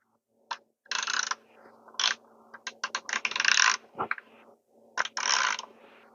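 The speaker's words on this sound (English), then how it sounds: "So now I will be locking this grinder." The DF6 coffee grinder fitted with SSP burrs is being locked, giving a close series of sharp clicks and short metallic ratcheting bursts in irregular clusters with quiet gaps between them.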